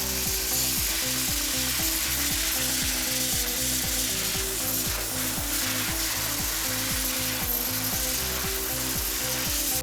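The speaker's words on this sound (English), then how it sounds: "dry ice blasting is used to quickly clean production equipment for refurbishing" A dry ice blasting machine cleans production equipment for refurbishing with a loud, continuous rapid ratcheting chatter over a steady hiss, even and unbroken throughout.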